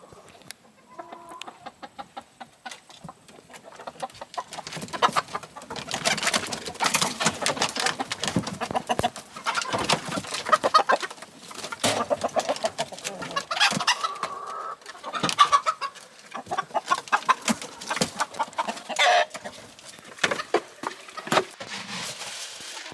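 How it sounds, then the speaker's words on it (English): Chickens cluck and murmur inside a coop at a communal ecovillage, a busy, uneven chorus of clucks and short calls near and far, continuing without pause. "this is a chicken coop with chickens inside"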